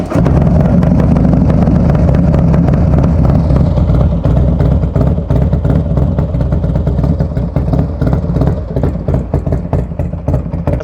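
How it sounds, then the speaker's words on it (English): A Harley-Davidson fitted with a Burns Stainless exhaust idles loud and close, a deep, lumpy rumble with uneven rapid pulses that stays strong throughout. "This new Burns Stainless exhaust sounds fantastic on this bike."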